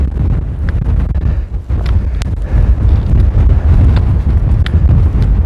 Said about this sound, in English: the wind has picked up coming up off this little notch here